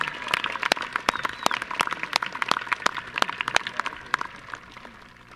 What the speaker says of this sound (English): How about one more round of applause while we hear some speeches?